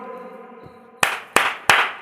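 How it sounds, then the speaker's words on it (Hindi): Three sharp hand claps follow one another at an even pace, loud and close, after a soft sustained hum. "3 ताली बजाई"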